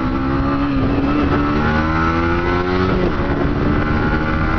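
A 2023 Yamaha MT-15 motorcycle engine drones steadily while riding, a loud close harmonic whine that rises gently in pitch as it pulls through the gears, with wind rush underneath throughout.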